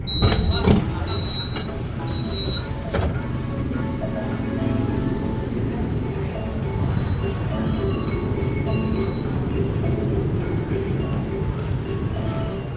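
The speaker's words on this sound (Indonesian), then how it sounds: "Jam 10:25 kereta api Majapahit sudah tiba di stasiun Cirebon Perujakan" The Majapahit economy passenger train pulls into Cirebon Prujakan station, a steady rumbling roll with metallic clinks and a few high squeals from the wheels, mid-loud and continuous.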